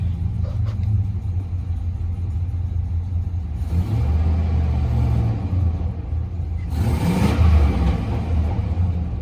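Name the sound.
GMC 2500 6.0 engine running with lopey idle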